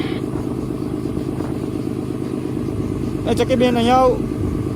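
A fishing boat's engine runs steadily in the machine room, a constant low mechanical drone with clattering, and a person calls out loudly over it near the end.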